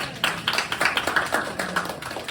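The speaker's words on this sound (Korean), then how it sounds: "선생님 박수 한번 주세요." At a school lesson-sharing festival event, a small group claps for a student presenter, producing a steady run of light, close hand claps with no talk over them.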